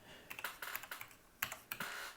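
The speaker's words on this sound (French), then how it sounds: "Vous voyez par exemple si je tape ici" Close, crisp clicks from a computer keyboard come in a short irregular run as a club name is typed into a search box in Football Manager 22, with a brief pause before a couple of final louder taps.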